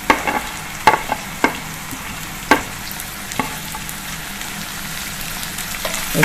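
A spoon scrapes and clacks in a pan as chopped dried drumstick vegetable is stirred into spices, giving intermittent taps over a soft, steady sizzle.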